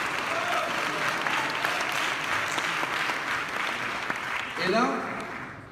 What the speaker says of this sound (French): Vos applaudissements pour Félix.